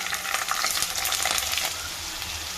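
Bitter gourd pieces frying in a pan with oil, a steady close sizzle and crackle that runs the whole time, with occasional stirring, and no voices.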